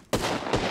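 In a shooter video game, a frag grenade goes off as two sharp, loud bursts about half a second apart, each followed by a broad, rumbling blast decay.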